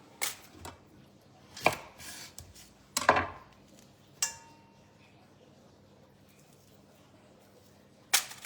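Knife chopping vegetables for a Greek salad on a board, a few sharp separate chops spaced out over several seconds with quiet gaps between them.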